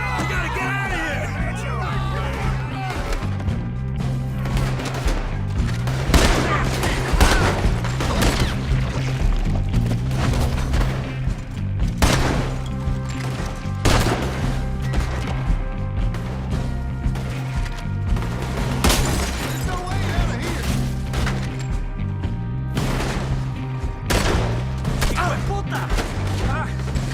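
Gunfire rings out in a Red Dead Redemption 2 shootout, with steady bursts of shots and booms over a continuous music score while characters yell throughout.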